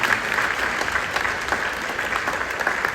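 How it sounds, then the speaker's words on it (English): A roomful of people applaud at a mayor's state of the city address, producing an even, continuous patter of clapping that carries through the whole stretch. "So let's give him a round of applause and thank God for him."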